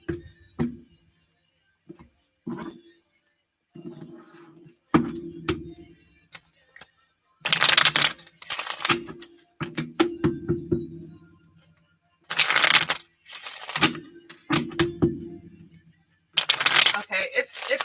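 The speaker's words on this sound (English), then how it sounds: "One more shuffle here, and then we'll shuffle up the other deck" Bursts of a card deck being riffle-shuffled, several quick ruffling flurries separated by pauses, with soft taps and a person speaking between them.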